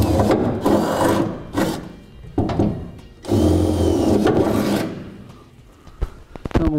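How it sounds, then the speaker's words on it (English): Power drill with a quarter-inch bit boring pilot holes up through the steel bed of a 2011 GMC Sierra pickup during a gooseneck hitch install; loud grinding bursts start and stop repeatedly, close by, with no talk. "Now we'll take a quarter inch bit and we'll run it straight up through."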